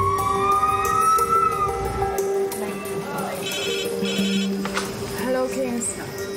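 The emergency red phone rings in a hospital A&E department, its electronic ring tones sounding over busy ward noise and people talking nearby.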